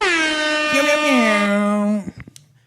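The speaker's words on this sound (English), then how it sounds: "That's a beautiful air horn." One long, loud, blaring air horn blast held for about two seconds, its pitch sagging slightly before cutting off, followed by brief clatter.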